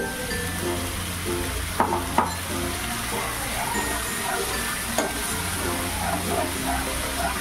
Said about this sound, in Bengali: ভেজে নেওয়ার সাথে সাথেই আমি এবারে দিয়ে দিচ্ছি যে মশলার পেস্টটাকে বানিয়ে রেখেছিলাম, সেই মশলার পেস্টটা।